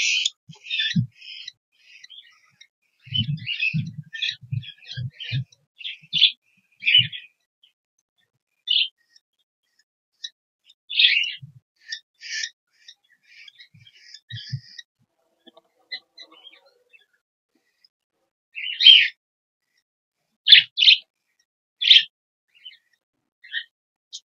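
Budgerigars give sharp, high chirps and chatter in scattered bursts separated by quiet gaps, close by, with a few soft low thumps among the calls.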